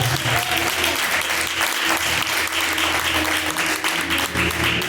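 A congregation applauds in praise during a live church worship service, a loud, dense and sustained roar of clapping from many hands, with faint voices mixed in beneath.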